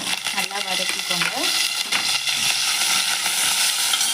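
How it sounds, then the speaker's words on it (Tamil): Sliced onion, green chillies and curry leaves sauté in hot oil with fennel seeds for a chicken curry, giving a loud, steady sizzle with scraping stirring strokes near the start. "இப்போ ஒரு பெரிய வெங்காயமும் 3 பச்சை மிளகா கருவேப்பிலை போட்டு நல்லா வதக்கிக்கோங்க."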